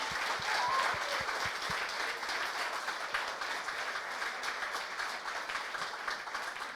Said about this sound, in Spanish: si le van a dar un aplauso al Señor por la vida del pastor Carlitos